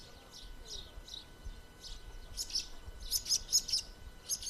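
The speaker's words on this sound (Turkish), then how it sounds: "Kuşlar cıvıl cıvıl." Birds chirp in quick, bright bursts beside a stone village house with chickens nearby, at first sparse and faint, then louder and more frequent, over a quiet outdoor background.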